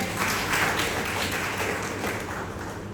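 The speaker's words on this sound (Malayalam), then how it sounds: "എന്നാലും നമുക്കൊരു കൈയടി കൊടുത്തേക്കാം അല്ലേ." An audience at a Mandya Diocese Mathruvedi general body meeting claps steadily, a soft, even patter that keeps going and fades a little toward the end, with no voices over it.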